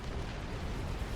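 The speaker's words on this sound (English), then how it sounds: "There's too much artillery." Massed artillery barrage in the strategy game Supreme Commander Forged Alliance, a dense continuous rumble of overlapping low booms and blasts with no pauses, steady and loud throughout.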